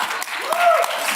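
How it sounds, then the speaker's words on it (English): An audience claps in a round of applause at a live fireside chat, a dense steady patter of many hands lasting just over a second with a voice cutting through partway. "Let's give a round of applause for that."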